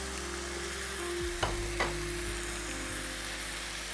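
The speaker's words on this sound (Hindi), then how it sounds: "ये देखें मसाले को अच्छी तरह भूनना है ताकि कलर निकल के आए" Spices are roasted in a pan over steady heat, giving a continuous close sizzle and frying hiss with a low hum underneath and two brief clicks from stirring.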